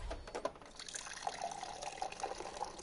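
Water being poured, a soft steady trickle and splash running continuously at low volume, heard close by.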